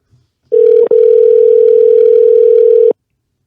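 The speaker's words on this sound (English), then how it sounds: "We're going to see if we can get Zach back on the line" A telephone dial tone on a call line sounds as one steady, loud, continuous tone for a few seconds, broken by a single brief gap near its start, with no talking.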